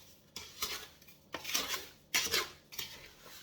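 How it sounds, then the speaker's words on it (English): Elderberries and sugar stirred in a pot with a utensil, giving bursts of scraping and clinking against the pot sides in an uneven rhythm, close and fairly quiet, with no talking. "Then I'll give it a bit of a stir"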